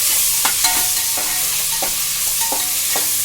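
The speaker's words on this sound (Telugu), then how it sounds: "బ్రౌన్ రంగు వచ్చేదాకా కలుపుకోవాలి" Onions and green chillies sizzle steadily in a pan while a spoon stirs them in regular scraping strokes, close up and with no voices.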